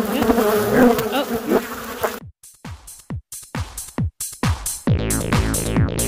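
A swarm of killer bees buzzes close by during beekeeping in Arizona, a dense continuous drone at first that breaks into a series of sharp, loud bursts and swells, then thickens again near the end.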